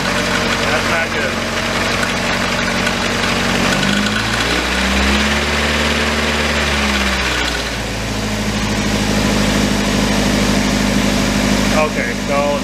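A Nissan 240SX with a KA24DE engine, showing low oil pressure, idles loudly up close, then revs up and back down in a smooth sweep, with a voice talking over the steady engine hum.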